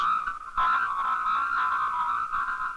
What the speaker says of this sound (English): A squeezed message sounds like this.